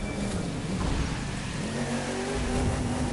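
Shelby GT500 muscle car in The Crew 2 video game, its engine roaring steadily with a low revving rumble that holds loud and continuous throughout.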